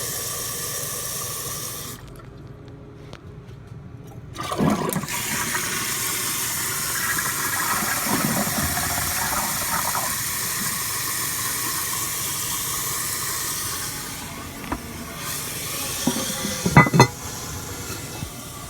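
A 2006 Ferguson ProFlo toilet in an employee restroom flushes with a loud rushing surge, then a Fluidmaster 400A fill valve hisses steadily as the tank refills through a Fluidmaster 3-inch flush valve, with a few clunks near the end.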